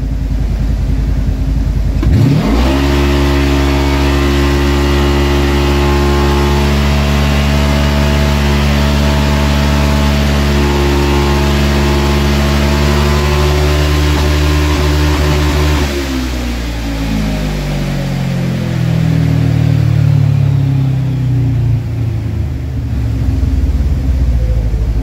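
A 2022 Polaris General buggy fitted with a Stage 2 kit (tune, slip-on exhaust and clutching) starts up and idles with a steady, loud engine rumble, then its pitch climbs through a sustained rev before dropping back and settling into a lower, uneven idle.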